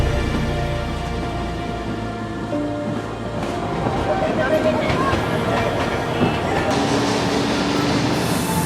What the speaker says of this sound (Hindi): इस लूप में घूमकर टॉय ट्रेन इतनी ज़्यादा हाइट पर भी आराम से चढ़ जाती है।